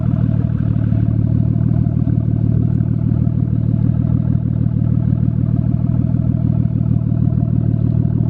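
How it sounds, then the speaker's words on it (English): A Nissan Skyline with a Tomei cat-back exhaust idles with a deep, steady, burbling exhaust rumble, close and loud, continuous throughout with no talking. "just to check out the exhaust and hear the sound"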